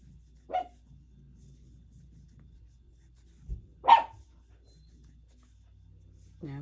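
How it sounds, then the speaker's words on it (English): A dog gives a few separate barks, one short woof early and a louder pair later, over a quiet room with faint background sounds. "he's barking."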